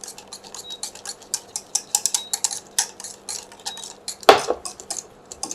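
A wire whisk beats eggless custard in a pan pulled off a gas flame, producing quick, irregular metallic clicks and taps against the pan's sides, crisp and close, ending with a louder clank.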